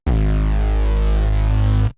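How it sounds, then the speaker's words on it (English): A deep, sustained synth bass tone from the Xpand!2 plugin's Broken Transistor preset holds steady for about two seconds with a buzzy, rich texture, then cuts off. "then I've got this bass that layers in underneath that."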